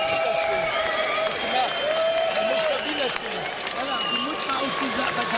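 A 14,000-strong crowd at a boxing arena during the Arthur Abraham vs Jermain Taylor fight keeps up a steady roar of cheering and applause, with a commentator talking over it throughout.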